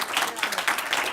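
A seminar audience breaks into brief applause, a short burst of clapping with speech-like sound mixed in.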